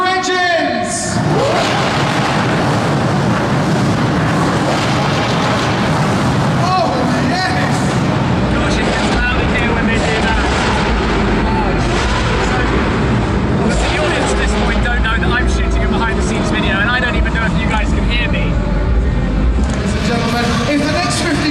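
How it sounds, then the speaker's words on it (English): Car engines, among them a McLaren 675LT, start and rev at a live motorsport show, a loud continuous roar with rising and falling revs and crowd or announcer noise mixed in throughout. "Gentlemen, ladies, start your engines!"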